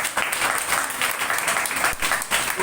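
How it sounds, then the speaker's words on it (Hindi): A congregation at a Sunday prayer meeting claps loudly and continuously, a dense, sustained roar of many hands in a reverberant hall. "जोर से ताली करो।"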